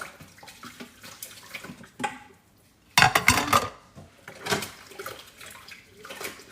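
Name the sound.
washing dishes by hand, clattering pots and cutlery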